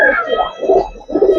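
Giribaz racing pigeons in a loft coo in soft, repeated throaty phrases, three swelling rounds close to the microphone over a faint background hum.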